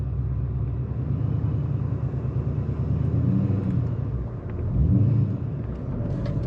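A manual car pulls away in first gear without stalling, heard as a low engine rumble with a rough, pulsing idle and a swell of revs near the end, from inside the cabin, with no talking.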